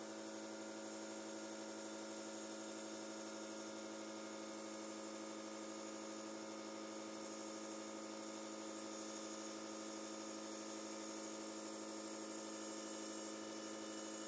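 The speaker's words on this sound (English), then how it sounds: "Sorry for the compressor noise in this bit." An air compressor drones steadily and fairly quietly throughout, a constant broadband hum that fills the whole stretch while a model Pennsylvania A3 switcher steam engine is tested on air for the first time.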